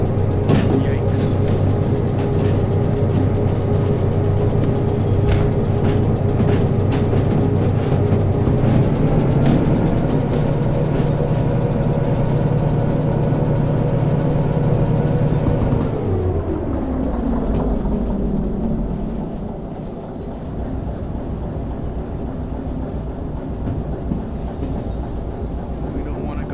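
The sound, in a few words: train running on rails in video game Derail Valley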